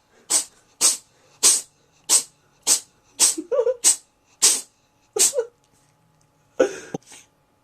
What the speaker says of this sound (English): I'm being rudely interrupted by, by epic sneezing.